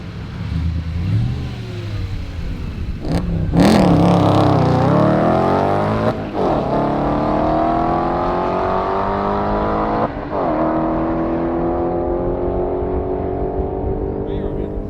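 Volkswagen GTI drag car at a Euro drag racing event making a quarter mile pass, a loud engine roaring and climbing through gear changes with brief shift breaks, then fading as it pulls away.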